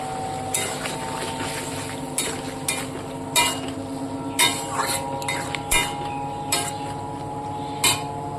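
Fried prawns go into a bottle gourd curry in a pan, with regular clinks and scrapes of a utensil against the metal over a low, steady cooking hiss.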